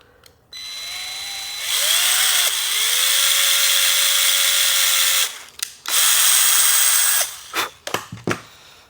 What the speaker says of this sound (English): So now I can drill this pilot hole.